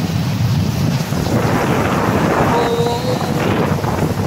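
Heavy rain lashes down with strong wind during a cyclone-season storm in Odisha, a dense, loud, steady roar with gusty buffeting against the microphone and no clear talk.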